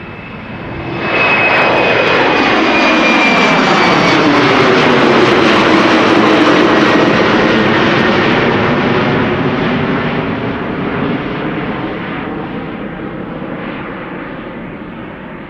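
A Boeing 777-300 bound for Istanbul departs Amsterdam Schiphol Airport, its jet engines surging in after a second into a loud, sustained roar that slowly recedes into the distance.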